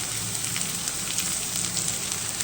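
Onions and tomatoes fry in a hot pan with a loud, steady sizzle that runs unbroken throughout, with no voices.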